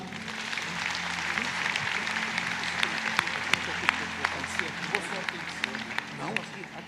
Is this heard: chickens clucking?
no